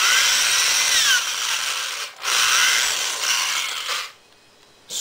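A reamer cuts through the flash hole of a homemade .223 Remington pellet rifle, giving close, loud, high-pitched whirring and scraping in two long passes, with a brief pause between them and a quieter stretch near the end.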